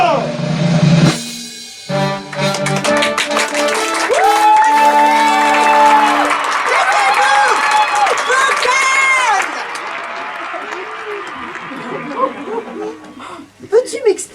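A large crowd gathered beneath the queen's windows cheers and applauds, with loud shouting voices and clapping swelling together before fading toward the end.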